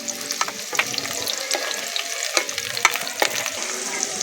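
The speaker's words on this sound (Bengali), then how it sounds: "পেঁয়াজ আর রসুনটা একটু ভেজে নিয়েছি" Onion and garlic frying in oil, a steady close sizzle with frequent clicks and scrapes of stirring throughout, no voices.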